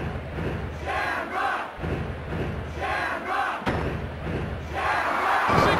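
Capacity arena crowd in the WWF Warzone wrestling video game, a loud continuous roar of cheering that rises and falls in waves with a sharp thud midway.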